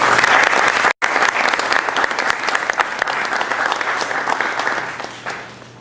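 An audience at a fall family policy seminar breaks into sustained applause to welcome a speaker. The steady clapping pauses for a moment, then continues and gradually fades.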